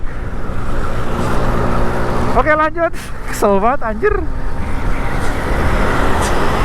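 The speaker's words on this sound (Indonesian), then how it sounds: "Jadi beberapa truk yang habis ambil pasir di tambang tadi di atas itu turun ke bawah teman-teman." Sand trucks come down a wet mountain road from a quarry in Lumajang, making a steady rumble of heavy road traffic that runs throughout, with someone talking briefly over it.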